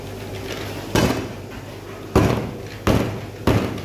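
Galangal being pounded, as with ginger, during Malaysian cooking: four loud, sharp thuds at uneven intervals, close by, with no talk.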